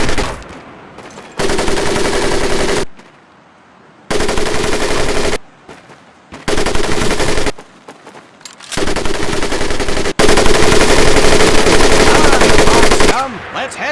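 An M1919A4 .30 caliber machine gun in Medal of Honor Pacific Assault fires loud, close, sustained bursts, several rattling volleys broken by short pauses, the last burst long and unbroken.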